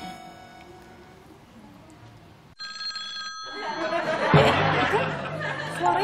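Mobile phone ringtone with steady tonal rings, fairly faint as if from inside something, then a sudden burst of louder household noise and chatter.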